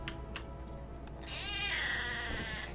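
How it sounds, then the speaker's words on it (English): A pet cat meows loudly near the microphone in a long drawn-out call, rising and wavering over a steady low background hum. "Sorry about my cat."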